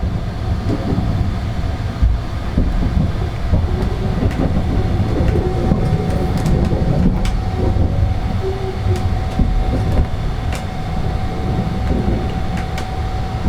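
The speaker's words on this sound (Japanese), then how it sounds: "通過する列車は速度を落としながら向かいます。" The Sunrise night sleeper express rolls steadily through Kyoto station at night, slowing, with a continuous rumble and faint rhythmic clicks of wheels over rail joints, heard from inside the moving carriage.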